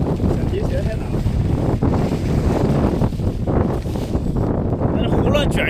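Strong wind batters an outdoor microphone on a snowy mountain pass while a tent is folded. A continuous roaring buffet of gusts fills the stretch, and a voice is faintly present beneath it.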